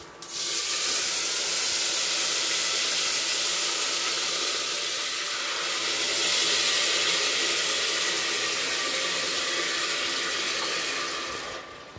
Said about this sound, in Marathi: असं कुकरने मोठा आवाज केला